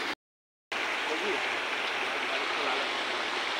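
Steady rushing water pouring over a small hand-built dam on a stream in Kirlos, Malvan, a continuous broadband wash that starts after a brief silent gap and stays loud and even.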